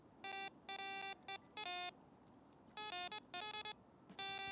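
A Wolf rechargeable fishing bite alarm sounds as a stick is run over its roller wheel, giving bursts of shrill electronic beeps in irregular clusters, loud and close against a quiet background.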